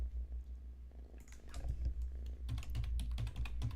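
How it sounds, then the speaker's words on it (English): Typing on a computer keyboard, close and fairly faint: quick irregular key clicks that grow busier toward the end over a low steady hum. "I'm going to type it into the chat too."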